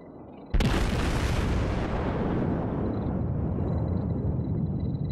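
A single massive boom from an American battleship's main guns in World of Warships, sudden and very loud, followed by a long, heavy rumbling tail that fades slowly.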